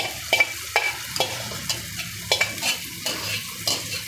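A spoon scrapes and knocks through soya chunks and corn curry in a pan in a quick irregular rhythm, with light sizzling underneath and no voices.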